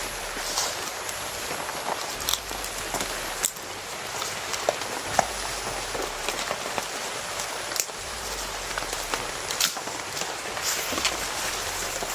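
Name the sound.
rain falling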